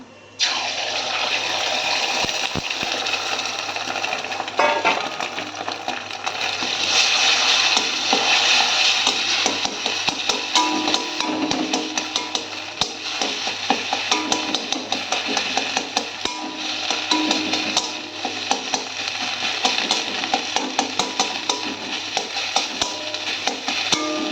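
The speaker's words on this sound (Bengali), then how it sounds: "ডিমের ভুজিয়াটা করব এখন।" Egg bhurji frying and being stirred in oil in a wok, a steady loud hiss and sizzle running continuously with scattered scraping clicks of the spatula, no talking.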